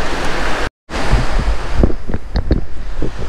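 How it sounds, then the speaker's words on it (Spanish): Sea waves breaking on the shore near an abandoned house, a loud wash of surf buffeted by wind noise on the microphone, briefly cut to silence before the rushing and thumping return. "ahí se ven lo que son las olas del mar"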